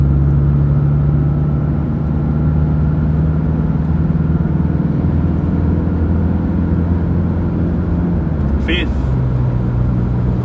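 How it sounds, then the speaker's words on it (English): Toyota Hiace van accelerating past 100 km/h through its upper gears with torque-converter lockup, a loud steady engine drone and road roar from inside the cab, the pitch dipping near the end as it shifts. "We'll accelerate up past our 100k's here."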